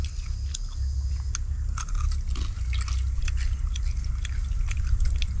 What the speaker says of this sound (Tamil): அடுத்து கருவாடை கடிக்கல வரும்